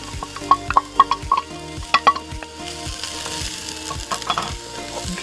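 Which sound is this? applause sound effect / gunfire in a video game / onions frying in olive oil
onions frying in olive oil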